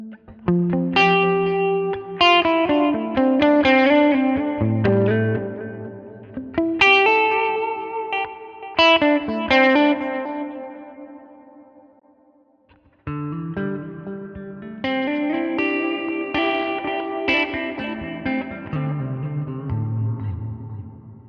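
Electric guitar played through delay and reverb effects on a Line 6 Helix with a split block, with sustained chords and picked notes and echoing tails, a short pause near the middle before playing resumes, loud and alone.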